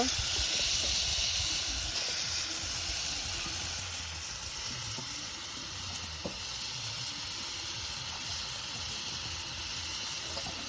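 Potatoes and cauliflower fry in a pan with a steady, even sizzle and hiss throughout, close by and fairly quiet, with no talking.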